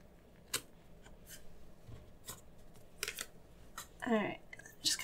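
Scissors snip through paper during bullet journal weekly planning in a Filofax, several short crisp cuts scattered across a quiet room, with a quick run of rapid snips near the end.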